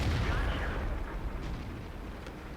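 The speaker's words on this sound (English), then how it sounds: "that was probably an artillery shell that we just heard going off" An artillery shell explodes in the World of Tanks video game: a loud, close broadband boom that rumbles and slowly fades over a couple of seconds.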